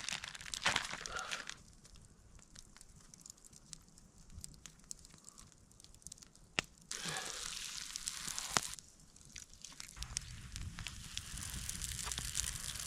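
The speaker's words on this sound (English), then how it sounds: "There we go, fried Spam." Spam slices frying in a pan over a campfire at a bushcraft campsite, a soft steady sizzle and crackle that swells louder in stretches, with scattered small pops and no talking.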